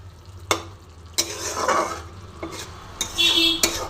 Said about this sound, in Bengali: আস্তে আস্তে এটাকে নাড়বো। ডিমটাকে মশলার সঙ্গে একটু